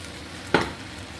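Chunks of squash and sweet potato drop into a hot pan of shrimp pinakbet, giving one brief close sizzling hiss that quickly settles into a faint background fry.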